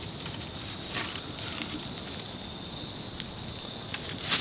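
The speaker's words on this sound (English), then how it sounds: "trying to build me a place to keep from getting this misty rain on me." Misty rain falls steadily in a video game, a faint, even hiss with soft scattered patter and no speech.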